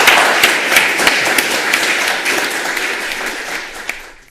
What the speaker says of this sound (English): shall we give him a warm round of applause?